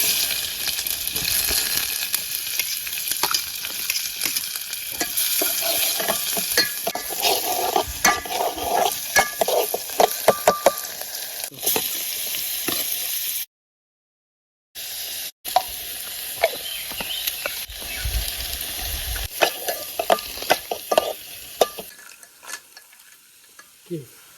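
Onion frying in a pan outdoors in a forest while cooking a crab dish, with steady close sizzling and stirring scrapes throughout, a brief gap of silence midway, then the sizzle returning and fading near the end.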